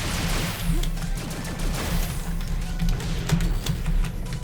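In the Cloudbuilt video game, an enemy turret fires a steady stream of rapid shots. A constant hum sits underneath the shots and a few whooshing sweeps pass over them, and the whole stretch stays fairly loud and busy.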